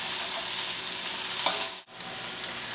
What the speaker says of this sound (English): We're going to give everything into a big stir and just let the vegetables cook until they become tender